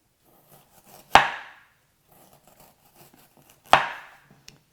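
Ginger is sliced thin on a cutting board for Chinese-style steamed fish with ginger and scallion. Two crisp, distinct chops land a couple of seconds apart, with near quiet in between.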